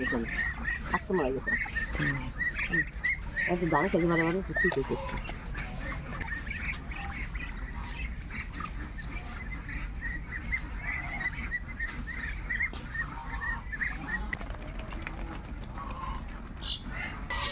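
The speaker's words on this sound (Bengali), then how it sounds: "সবার হাঁস নদীতে যাইতেছে" Domestic ducks at a duck farm keep up a steady, busy chorus of overlapping calls and honks throughout, with a brief human voice near the start.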